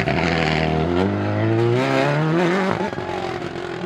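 A WRC rally car at Rallye Monte-Carlo roars past close by, its engine note climbing through the revs in a loud, rising howl before dropping away sharply near the end.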